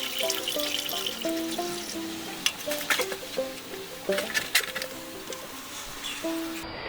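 Antifreeze pours from a full bucket into another container while work goes on around a 1955 Ford, heard as trickling and gurgling liquid mixed with clinks and knocks of containers, close and fairly quiet.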